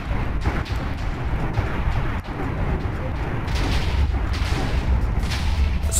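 Minecraft explosions boom one after another, deep rumbling blasts layered over a constant low roar, some sharper cracks standing out.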